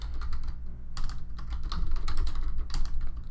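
Rapid, uneven clatter of keys on a computer keyboard, heard close and steady across the whole stretch with brief pauses between bursts of keystrokes.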